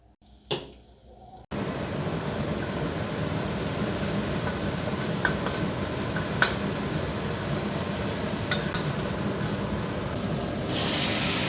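Chili and garlic frying in a pan that already holds leftover chili-frying oil, giving a steady, close, loud sizzle that runs unbroken after a brief quiet start, with a few small clicks on top and no talking.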